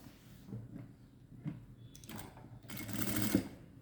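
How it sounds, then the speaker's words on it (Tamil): Sewing machine stitching a silk saree border a quarter inch in, running in short stop-start bursts with clattering needle strokes, fairly quiet and close, with a louder run near the end. "நான் இப்போது இது மேலே அப்படியே இந்த கால் இன்ச்சிலேயே தைச்சிட்டு வரேன் பாருங்கள்"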